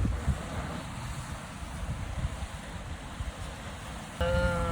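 Sea surf along a pier in Ba'a on Rote Island, a steady broad wash of waves mixed with wind rumble on the microphone, with a brief tonal hum entering near the end.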